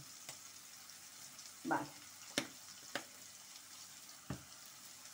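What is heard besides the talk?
minced garlic frying in a pan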